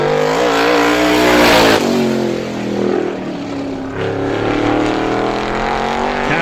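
Race car number 19, driven by Trent Stevens of Ravenna, Ohio, rolls onto Star Speedway for ISMA time trials. Its engine drones loud and close, easing off and then building its revs again, with no talk over it.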